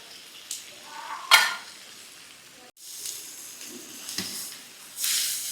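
Coconut goes into a pan and roasts for a chole masala, with soft sizzling and hissing, a few stirring scrapes, and a brief pause in the middle. The sound is close but fairly quiet.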